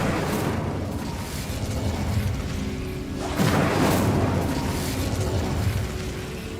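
The Incendio fire spell in Hogwarts Legacy erupts as a loud, roaring burst of flame, swelling midway into a second heavy whoosh that rumbles on without talk.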